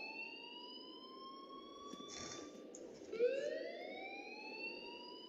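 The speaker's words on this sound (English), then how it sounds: "please turn off that alarm since that's your job" A fire alarm in the video game Life is Strange wails steadily throughout, a continuous electronic tone over a hissing background, with no voices.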